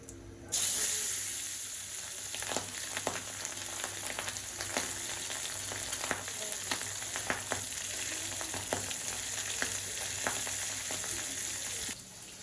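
Pumpkin and shrimp sautéing in a pan, a steady moderate sizzle with repeated scraping clicks of a spatula stirring at an irregular pace, no speech.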